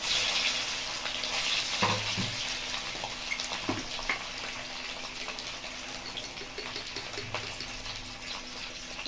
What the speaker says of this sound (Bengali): আলুটা প্রথমে একটু ভেজে নেব।